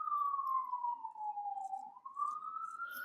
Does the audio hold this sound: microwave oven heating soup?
no